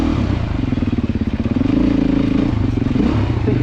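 A Beta motorcycle at a 2024 demo day rides hard through its gears, the engine loud and close with a steady pulsing drone, a brief dip and then a climb in pitch as it pulls on.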